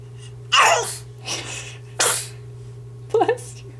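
A baby sneezes several times in a row, short sharp bursts separated by pauses, close to the microphone over a steady low electrical hum, with an adult voice briefly audible.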